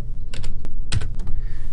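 Quick clusters of keystrokes on a computer keyboard, crisp close clicks in short bursts with brief pauses, as a name is entered in Flash animation software.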